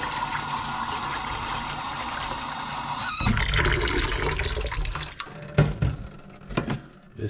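Tap water rushes steadily into a metal pot, the tone shifting as it fills, followed by clinks and splashes as the flow stops.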